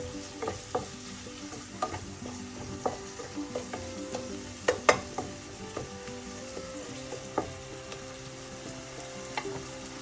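Tomatoes and other ingredients stir-fry in a pan for a Kollam-style mackerel pepper curry, a steady close sizzle punctuated by irregular clacks and scrapes of a spatula against the pan.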